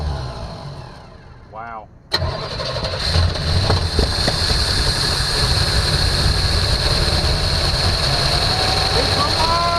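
A 1974 Chevrolet Nova engine cranks briefly and then fires up with a sudden loud catch, settling into a steady, close, roaring idle, with a person briefly exclaiming over it.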